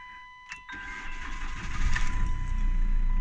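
A 2.0 diesel car engine cranks and catches using a Lidl Ultimate Speed jump starter power bank, a brief starter whir giving way to a loud, steady diesel idle that builds and holds, with a faint electronic tone in the background.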